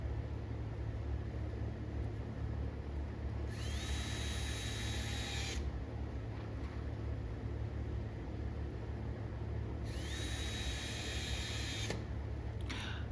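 A power drill drives screws to attach wooden boards, two short whirring bursts a few seconds apart over a constant steady background hum.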